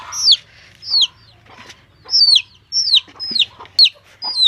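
Chickens being called to feed on rice give repeated short, rising clucks and squawks, close and fairly loud, spaced irregularly over a quiet background with faint low rumbling.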